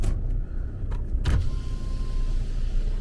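Car on a road trip heading up to a rural B&B, with a steady low road rumble and engine hum inside the cabin and a brief whirring clunk, like a power window or door, partway through.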